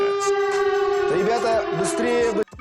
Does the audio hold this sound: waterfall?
no